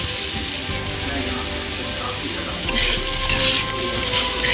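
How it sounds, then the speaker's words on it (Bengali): Soya chilli stir-fries in a pan with tomato, soy and chilli sauces, a dense close sizzle with hissing bursts of stirring toward the end. "দু মিনিট নাড়িয়ে নেবো কষে নেবো"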